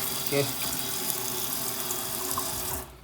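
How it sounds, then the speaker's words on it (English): Water runs from a kitchen sink tap over wheatgrass seeds in a strainer, a steady splashing stream that cuts off abruptly near the end. "Just ran it under the water for a quick second."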